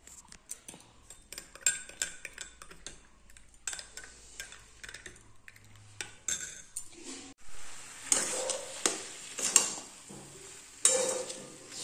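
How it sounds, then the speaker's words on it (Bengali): Soybean curry with two tomatoes being stirred and sautéed in a pan, with intermittent scraping, clinks of a utensil against metal and soft sizzling that grows busier and louder toward the end. "সয়াবিনের তরকারিটাকে ভালো করে কষিয়ে নিচ্ছি, বুঝলে তো। দুখানা টমেটো দিয়েছি"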